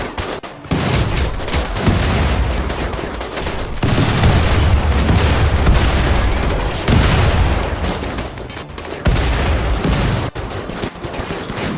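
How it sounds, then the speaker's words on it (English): Rocket launchers and explosions boom in a RimWorld battle as dense, loud bursts of gunfire and blasts roll one after another, near and continuous with short gaps between volleys. "I hear rocket launchers."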